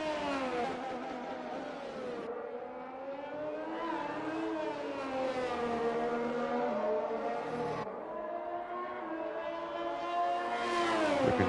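Ferrari race car engine at speed on the Imola circuit near the end of a lap, a loud high-pitched wail rising and falling through gear changes and sharp upshifts, heard close and alone without talk.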